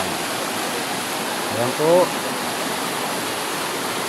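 A river in Pangil, Laguna rushes in a constant broadband wash of flowing water, close and steady, while someone says a few words partway through.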